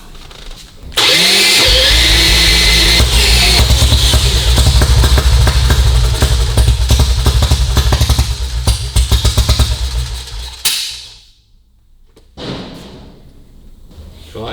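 A 1952 BSA M21 motorcycle engine is spun on a roller starter: a loud, close, rapid mechanical clatter that runs for about ten seconds, then stops abruptly, followed by quieter rumbling and faint movement.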